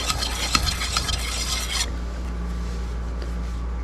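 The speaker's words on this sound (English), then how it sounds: "And give it a little stir." Stirring a homemade craft mixture in a container, a close scraping, rasping sound that runs busily for about two seconds and then drops to a quiet background hum.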